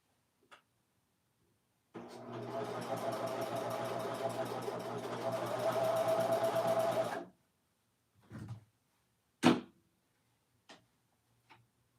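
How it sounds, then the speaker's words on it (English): Serger sewing machine finishing the edges of dress pocket pieces, running steadily for about five seconds with a dense mechanical whir and rapid ticking, followed by a few isolated clicks and thumps in an otherwise quiet room. "Let me serge this piece here."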